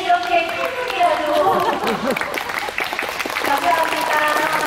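Audience applause and shouts of cheering at an outdoor street performance of Anseong Namsadang folk troupe tightrope walking, a dense steady crowd of clapping with voices calling out and chattering throughout, full and close.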